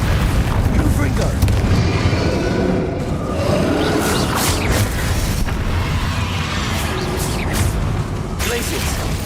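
Confringo fire-spell explosions in the Hogwarts Legacy video game: loud, dense, continuous booming blasts and crackling bursts that pile on each other without letup.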